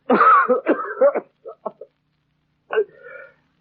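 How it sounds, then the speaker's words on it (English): A person coughs and clears their throat in a few short, rough bursts, close by, with brief pauses between. "It's that blasted cough."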